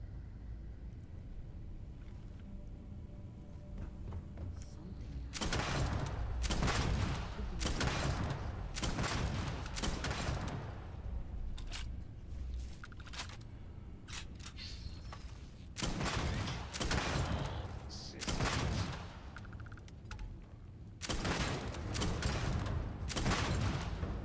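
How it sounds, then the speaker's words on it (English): A grenade launcher in Starfield fires repeatedly, each shot a loud thumping blast with rumbling aftermath, arriving in irregular clusters over a low background rumble. "I could just use the grenade launcher."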